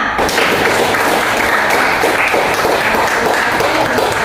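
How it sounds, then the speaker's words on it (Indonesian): Classroom applause for a student presentation group, a dense, steady wash of many hands clapping together throughout, loud and continuous with no speech over it. "Oke, aplaus buat temannya."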